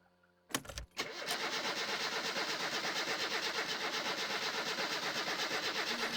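In the My Summer Car video game, a car engine is started: a brief burst of cranking, then it catches into a loud, steady, pulsing idle that continues close up to the end.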